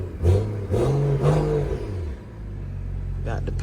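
A car's engine revs as the gas pedal is tapped at an auto auction lot, with a rising and falling growl that swells twice before settling into a low idle rumble, heard up close.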